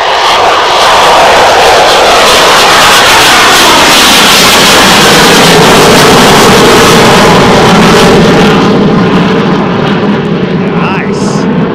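A Eurofighter Typhoon two-seat trainer jet departs RAF Coningsby, its engine roar loud and continuous, broadband and sweeping as it passes and recedes, with faint talk underneath.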